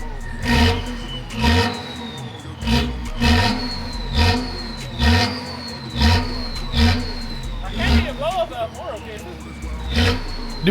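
A BMW X5 engine revs repeatedly through its muffled exhaust, about six loud rising bursts with brief lulls near idle between them, with voices talking over it.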